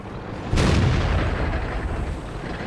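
The T150 tank's main cannon fires in World of Tanks: a single heavy blast that hits suddenly, then trails into a long rumbling reverberation over a steady engine drone.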